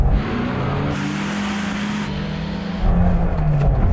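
Lada Niva engine revving off-road while held on the clutch, a loud close engine roar with rising pitch and a surge of power near the end.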